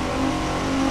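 Nissan Skyline R34 GT-R in The Crew 2 held just below the redline before launch, a steady, loud engine drone with a constant pitch and no voices over it.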